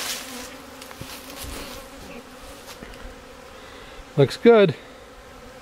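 Honeybees hum steadily around a hive being split in a walk-away split, a low continuous drone with a couple of brief louder buzzes near the end as bees pass close; a voice speaks briefly.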